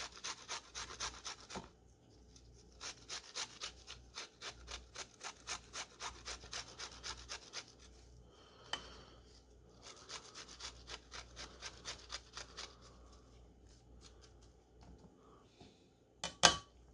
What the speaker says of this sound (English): And then this fresh ginger, we're just going to grate